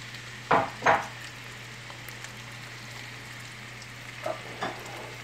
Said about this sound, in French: je mets mon oignon